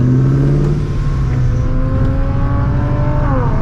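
A V6 Dodge Charger accelerates and revs nearby, its engine holding a loud, steady drone that climbs gradually in pitch over a few seconds, with no speech over it.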